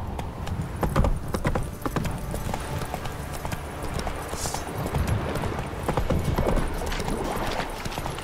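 Roach, Geralt's horse in The Witcher 3, gallops with a steady rapid clip-clop of hooves, loud and close, rolling continuously throughout with faint ambient rumble beneath.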